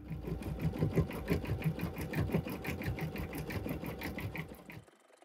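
An embroidery machine couches yarn onto fabric with a fast, steady mechanical stitching rhythm. It runs loud and close for about five seconds, then stops abruptly.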